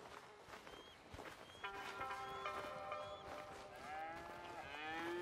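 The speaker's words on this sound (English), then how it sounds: "Here's the cows." Cows on a dairy farm in Red Dead Redemption 2 give several drawn-out, overlapping moos, some closer and some farther off, over a quiet outdoor background with faint hoof sounds.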